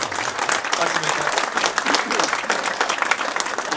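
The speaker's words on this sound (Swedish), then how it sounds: "Tack så jättemycket Niklas för att du har kommit hit igen med varm applåd" A crowd at a Leksands Sparbank event gives warm, steady applause for Nicklas Lidström, dense clapping sustained from start to finish at close range.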